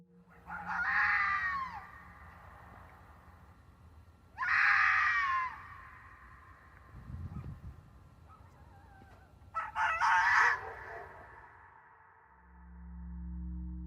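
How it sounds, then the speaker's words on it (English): A red fox gives three harsh, piercing screams spaced several seconds apart, each a short rasping wail, with a faint low rumble between them. "It's the scream of a red fox, and I'm going to play it for you now."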